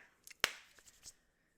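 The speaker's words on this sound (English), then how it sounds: "I got another clap in." A single sharp hand clap rings out alone in a quiet indoor room, close and crisp, with a few faint small taps around it.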